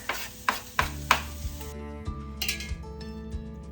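Minced garlic going into a pan of translucent sautéed onions for chili, with a few sharp clinks of a utensil against the pan followed by soft stirring and low sizzling, close and fairly quiet.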